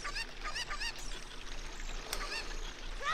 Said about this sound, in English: You just let me grab the damn chicken?